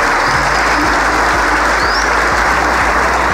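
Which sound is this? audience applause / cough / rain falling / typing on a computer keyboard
audience applause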